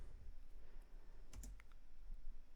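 Keys clatter on a computer keyboard as a short command is entered for land-survey drafting software, a few soft, quiet clicks and taps in a near-silent room.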